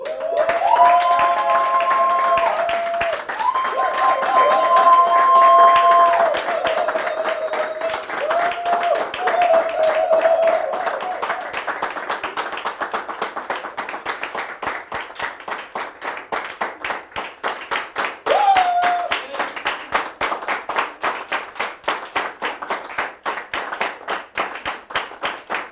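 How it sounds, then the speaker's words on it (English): Audience clapping during a conference session, a steady rhythmic clap that continues throughout, with sustained tones and a voice over the first part, growing sparser and more uneven toward the end. "They are clapping for you."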